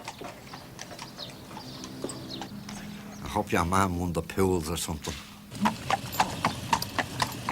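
A working horse clip-clops along a Dublin road, its steady hoofbeats close and clear while someone talks over them, with a brief whinny-like sound in the mix.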